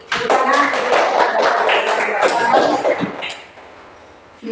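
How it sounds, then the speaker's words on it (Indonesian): A class in a Christian religious-education lesson applauds together, a burst of close, busy clapping with some voices and a cough mixed in, fading to quiet near the end. "Tepuk tangan dulu. Tepuk tangan."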